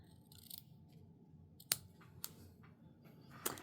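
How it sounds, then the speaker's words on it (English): Scissors trimming ribbon snip a few times, sharp isolated clicks of dull blades closing with short pauses between cuts in a quiet room. "I think I need to get new scissors."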